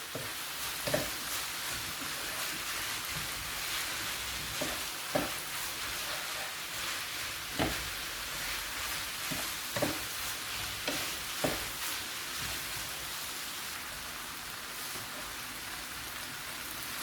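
Chinese vermicelli being stirred into a meat mixture in a pan, with a soft, steady sizzle and scattered scraping clicks of the utensil against the pan at irregular intervals, close and fairly quiet.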